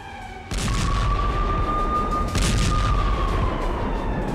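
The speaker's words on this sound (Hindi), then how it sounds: "रात के वक्त बैक टू बैक दर्जनों धमाके देखे जा सकते हैं।" Heavy rumbling blasts from a night-time bombardment of the Gaza Strip in the Israel-Hamas war boom one after another, loud and continuous, with a steady high tone running through the noise.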